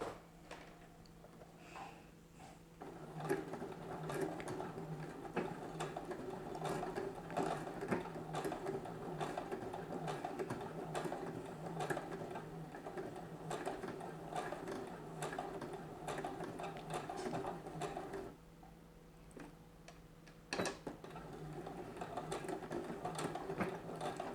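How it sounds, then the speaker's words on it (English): A sewing machine runs steadily, stitching hooks and eyes onto a bralette, with a fast mechanical whir and rhythmic clatter that pauses briefly before starting again. "So I'm just going to start sewing that now."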